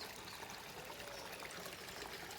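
Muddy, rain-swollen spring water flows at Three Houses Park in St. Philip, Barbados, a steady faint rushing and trickling wash with no voices, constant from start to end.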